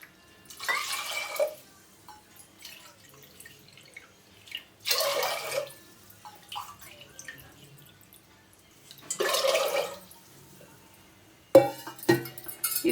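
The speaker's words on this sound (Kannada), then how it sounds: "ಒಂದು ಕಪ್ ಅಕ್ಕಿಗೆ ನಾನಿಲ್ಲಿ 3 ಕಪ್ನಷ್ಟು ನೀರು ಹಾಕ್ತಾ ಇದ್ದೀನಿ" Water is poured from a cup onto rice in a pressure cooker in three separate splashing pours with quiet gaps between them, followed by a light metallic clink.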